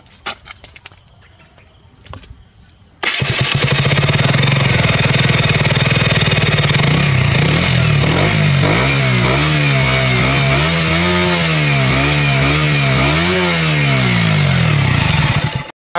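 A motorcycle engine revs hard, loud and close, after a few seconds of quieter idle, with repeated throttle blips rising and falling in pitch over a steady growl.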